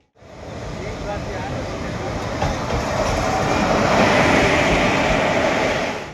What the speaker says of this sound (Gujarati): ટ્રેન આવી રહી છે